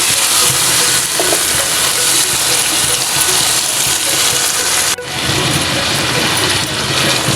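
Boiled chickpeas are fried in masala for chana pulao, a loud, close, steady sizzle with stirring and a brief clatter partway through.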